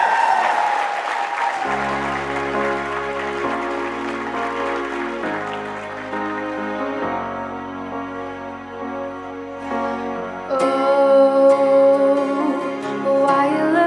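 A live audience applauds and cheers at a star-studded night show. Crowd noise rolls under loud pop music with a heavy bass line and layered notes for the whole stretch.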